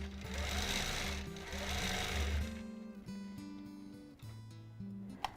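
A sewing machine runs steadily through free motion quilting, a loud continuous whirring stitch hum that eases off and changes pitch in short bursts near the end.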